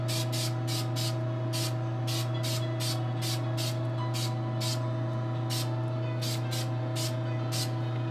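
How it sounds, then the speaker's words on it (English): Duplicolor matte varnish sprays from an aerosol can in about a dozen short, evenly spaced hissing bursts. A steady loud hum runs underneath the whole time. "So we're going to spray the hell out of this piece."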